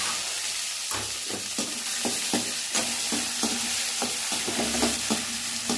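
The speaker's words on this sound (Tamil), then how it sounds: "இந்த மாதிரி நல்லா வதங்கின அப்புறம் நம்ம வெங்காயம் தக்காளி போட்டு நல்லா வதக்குறோம்." Onion and tomato sauté in a pan for upma, a continuous close sizzle broken by repeated rhythmic scrapes and clacks of a stirring spoon, with no voices.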